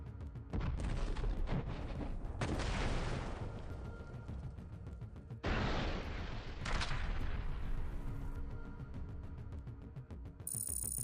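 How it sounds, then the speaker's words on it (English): Heavy artillery fire in wartime combat footage from Kherson, with loud sustained booming blasts and rumbling detonations that overlap and roll on continuously without speech. "Objective monitoring of artillery fire by the Dnipro military group targeting the gathering of Ukrainian forces in Kherson"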